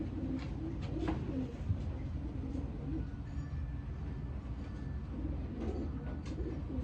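Racing pigeons coo in a low, repeated rumble at an elimination race loft, the throaty calls continuous and fairly close over steady background noise.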